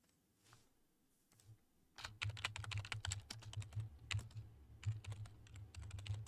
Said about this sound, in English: I can hear that keyboard clears a bell